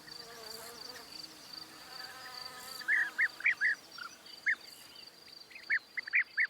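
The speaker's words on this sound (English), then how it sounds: "the flowers in the vineyard attract no end of insects" Faint steady insect buzzing hums among vineyard flowers in the background while several short, bright bird chirps cut in repeatedly, nearby and outdoors.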